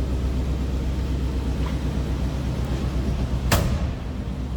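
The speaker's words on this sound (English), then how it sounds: "Door closes and latches nicely." Door of a 1962 Cadillac Coupe DeVille swinging shut with a single sharp latching thunk late in the stretch, heard over a steady low background rumble.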